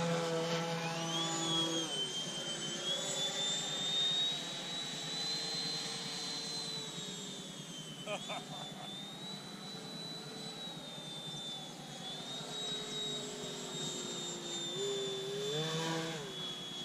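A Freewing F-22 Raptor RC electric ducted-fan jet flies by at throttle, giving a high, sustained whine that rises and dips in pitch with a few brief swells. It is fairly faint and distant, and no one talks.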